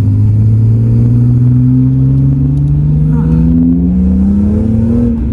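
A BMW M3 E46 engine with manual gearbox revs steadily upward from inside the cabin, a loud droning rumble climbing in pitch, with faint voices underneath.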